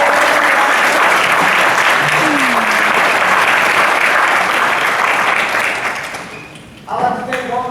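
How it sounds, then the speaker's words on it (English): Loud, sustained applause fills a high school spring pops orchestra concert, steady for several seconds, then thinning out as a voice begins speaking over the last of it. "Another round of applause."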